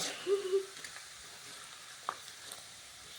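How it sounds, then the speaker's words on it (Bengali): Papads deep frying in hot oil for a lunch meal, a faint, steady sizzling hiss with a couple of soft clicks and no talk. "এই পাঁপড়গুলোকে ভেজে নেওয়া হবে দুপুরের খাবারের জন্য"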